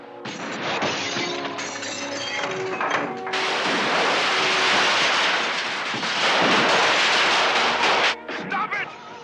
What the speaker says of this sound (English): They're shooting up your house.